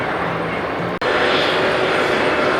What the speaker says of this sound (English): their arrival from Portland, Oregon in a MAX 9 jet